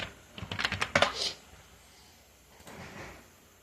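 A username and password being typed on a computer keyboard: a quick, close burst of about a dozen soft key clicks over roughly one second, then near silence with faint room noise.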